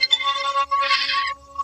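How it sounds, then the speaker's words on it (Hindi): A mobile phone ringing indoors at night, a steady electronic ringtone with bright layered tones that pause briefly, loud and close, with no voices over it. "तभी शेखर का फोन बजा"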